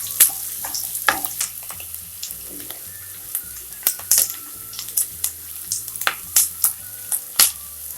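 Onions fry in oil in a pan, a continuous bright sizzle broken by frequent sharp clinks and scrapes of a spoon stirring against the metal, close and busy throughout.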